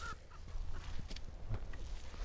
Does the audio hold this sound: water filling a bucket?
no